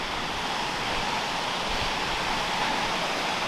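Lower waterfall in the Welsh Valleys, a steady broadband rush of falling water close by, continuous and unbroken with no voices.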